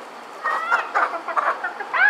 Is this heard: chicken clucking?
yes